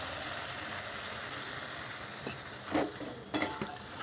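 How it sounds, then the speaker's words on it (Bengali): Water goes into a pan of frying potatoes and green chilli for an egg curry. A faint, steady sizzle is broken by a couple of sharp hissing splashes near the end, and no one speaks. "এবার জল দিয়ে দেবো।"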